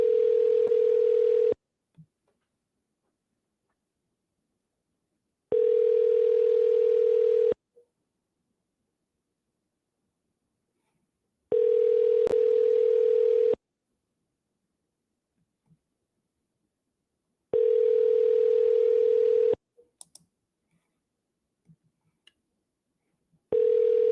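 A telephone ringback tone sounds while a seller is being called back, four long steady tones of about two seconds each separated by roughly four-second silences, with faint clicks in the gaps near the end.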